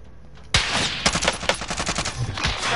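Automatic gunfire in a video game erupts sharply after a quiet start, a fast string of loud, close shots rattling on steadily to the end.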